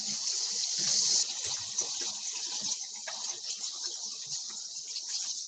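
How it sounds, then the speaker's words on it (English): Water runs from a tap in a steady, soft hiss as someone washes their hands, slightly stronger at first and then settling into an even flow with small splashes, no talking. "let me clean up and wash my hands real quick"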